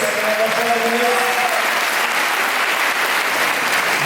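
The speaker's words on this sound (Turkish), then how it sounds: "evet alkışlıyoruz" A concert crowd applauds steadily in a hall, dense continuous clapping that holds at the same loudness throughout, with a voice briefly speaking over it at the start.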